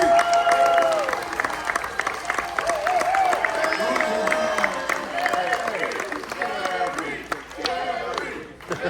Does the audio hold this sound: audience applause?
yes